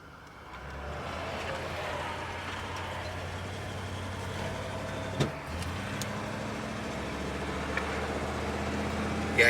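A 1983 Chevy Monte Carlo Landau with bad, wobbling tires is driven, its engine giving a steady low drone with road noise inside the cabin and a couple of brief knocks, with no talking.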